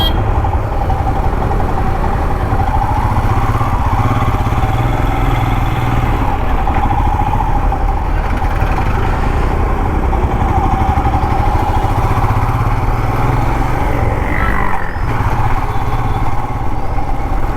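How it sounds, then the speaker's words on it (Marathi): A TVS motorcycle's engine runs steadily and loudly throughout a ride on Mumbai roads, its continuous exhaust rumble and firing filling the scene without interruption. "फायरिंगचा आवाज सर्व्हिस जेव्हापासून गाडी करून आणले तेव्हापासून फायरिंगचा आवाज खूप मस्त येते"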